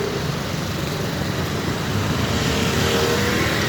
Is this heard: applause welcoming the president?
no